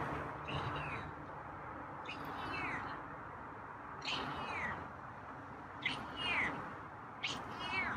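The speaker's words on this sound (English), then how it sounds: "You got some meows today." A feral cat gives a series of about five meows spaced a second or two apart, fairly close, over a steady outdoor background hum.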